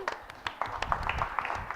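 Audience applause for a quiz winner at a community tech meetup, a brief burst of claps from a nearby crowd with voices mixed in.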